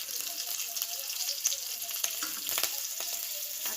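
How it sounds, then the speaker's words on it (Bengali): Nigella seeds and chilli hit hot oil, giving a bright, close hiss and sizzle with small crackling pops, steady for a few seconds without speech. "এই কালো জিরেটা ফোড়ন দিয়ে দিই"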